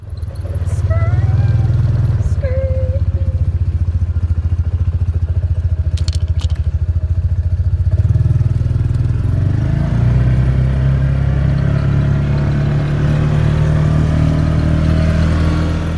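A car drives along with a steady low engine rumble and road noise heard from inside the cabin, continuous and fairly loud for the whole stretch.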